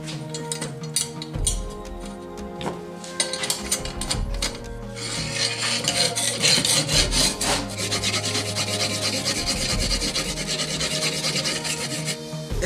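Steady rhythmic rasping of a knife blade drawn back and forth over sandpaper on an angle-guided sharpener, close and continuous, with a low musical background underneath.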